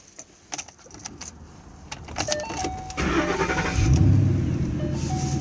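Keys jangle before a Ford Mustang GT with a 5.0 V8 cranks and fires up, settling into a deep, loud idle rumble close by.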